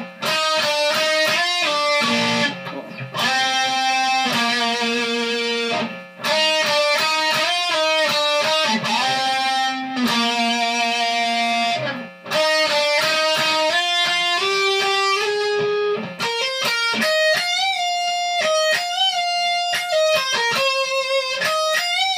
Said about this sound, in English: then we get to the guitar solo